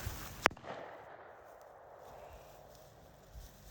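A single suppressed shot from a Zastava ZPAP92 rifle cracks sharply, then fades into a quiet outdoor background.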